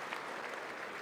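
Audience applause at a State of the Union address, a steady dense wash of clapping from a large chamber crowd with no talk over it.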